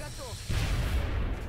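A weapon fires in the turn-based strategy game XCOM Long War: a single heavy, booming shot with a long rumbling tail, preceded by brief chirpy interface tones and a voice.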